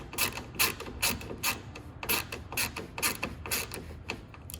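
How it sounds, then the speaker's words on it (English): Screw being driven into a rubber piece on a Ford tailgate, a steady run of close, rhythmic ratcheting clicks from the hand tool, roughly four or five per second, with no talking. "We're gonna go ahead and screw this guy in here."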